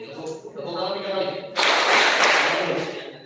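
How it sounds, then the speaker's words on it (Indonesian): A group at a leadership camp claps in a short burst after a speaker's voice, a loud broadband clatter of hands that rises suddenly and fades out. "Tepuk tangan tiga kali."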